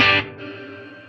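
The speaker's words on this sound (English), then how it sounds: "Once you add that reverb, it just opens it right up." Clean electric guitar through a clean amp with light reverb and no overdrive strikes one loud chord whose sound lingers in a smooth, steady wash after the attack.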